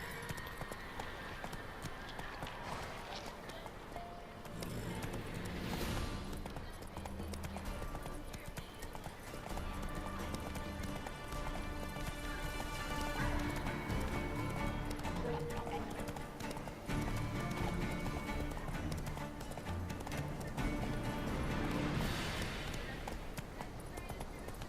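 The horse Roach gallops in The Witcher 3 with a fast, steady clip-clop of hooves that runs throughout. A game score plays underneath, and a voice speaks briefly over the hoofbeats.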